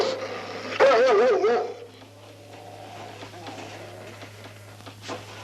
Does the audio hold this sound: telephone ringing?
no